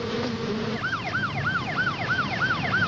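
An ambulance siren from a medic unit arriving at a rescue scene starts after a short lead-in, then repeats a rapid, loud, up-and-down yelp cycle steadily through to the end.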